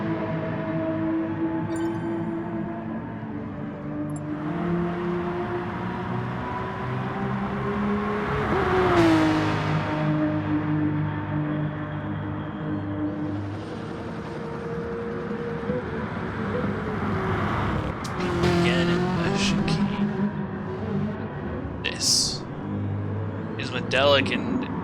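Race car lapping Barcelona-Catalunya in an endurance racing sim, its engine droning steadily with rising and falling revs through gear changes, under ongoing commentary.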